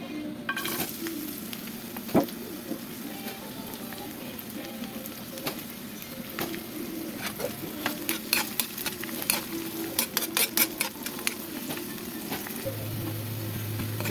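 Chopped garlic fries in a pan on a home stove, a dense continuous sizzle with frequent crackling pops and occasional utensil scrapes, close up with no talk.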